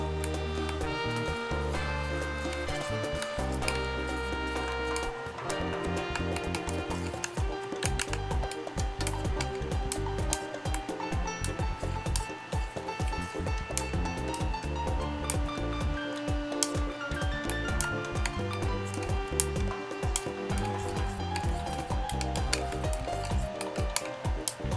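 A ragi mixture being stirred in a pan: continuous scraping and squelching of a spoon through the thickening mixture, close and steady throughout, over a musical background.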